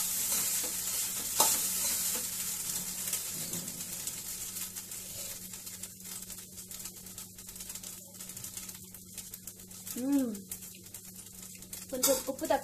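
Leftover rice fries in a hot, smoking pan, a faint steady sizzle with occasional stirring scrapes and clatters, fairly quiet and mostly alone, with a few scattered sharp knocks near the end.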